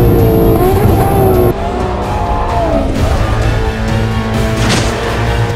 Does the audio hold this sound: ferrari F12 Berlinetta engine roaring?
yes